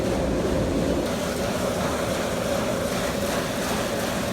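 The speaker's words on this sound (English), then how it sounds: "that's what that little sound is, the sound of grain being thrown against the walls" A steady, dense hiss and rush of corn being flung by a grain spreader against metal bin walls fills the space, constant and unbroken.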